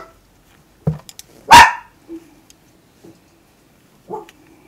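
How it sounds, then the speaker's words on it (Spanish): A small female dog barks indoors, a few sharp separate barks spaced over several seconds, close and fairly loud against a quiet background. "Ahí está mi perrita que me quiere acompañar."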